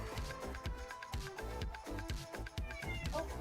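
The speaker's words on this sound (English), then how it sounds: "Meow." A cat meows a few times, fairly close, over a dense, busy backdrop of music and game sounds during a live Blood on the Clocktower stream.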